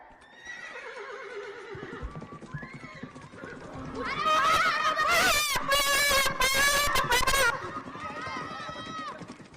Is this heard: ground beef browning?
no